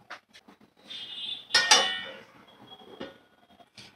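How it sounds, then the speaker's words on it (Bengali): A metal plate set over a pot of egg biryani, a few sharp clanks and clinks of metal on metal at close range, with lighter taps before and after. "থালা দিয়ে ঢাকা দিয়ে রাখবো।"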